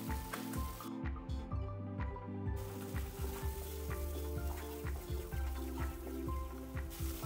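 Masala with peas and paneer frying uncovered in a pan, a steady close sizzle with rhythmic stirring scrapes repeating throughout, the crackle rising and falling with each pass of the spoon.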